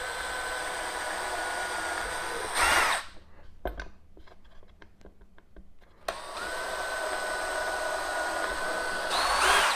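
A power drill whirs steadily while drilling pilot holes, stops briefly amid a few clicks and clatter, then starts up again with a sustained high-pitched whine.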